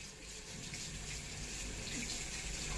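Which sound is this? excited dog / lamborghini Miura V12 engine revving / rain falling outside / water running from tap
water running from tap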